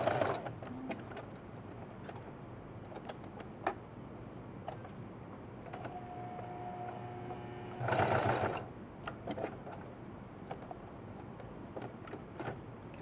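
Sewing machine stitching fabric, soft rhythmic ticking through most of the clip with a brief louder burst of continuous stitching near the middle, fairly quiet overall.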